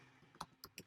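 Short burst of typing on a computer keyboard, four quick soft key clicks in an uneven rhythm, close and faint in a quiet room.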